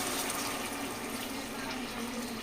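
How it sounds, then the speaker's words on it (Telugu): Half a glass of water pours into a pan of prawn curry as a steady, gushing splash that holds at an even level for the whole stretch. It plays close up and on its own, with no voices. "మనం 1/2 గ్లాస్ వాటర్ వేసేసుకోవాలి."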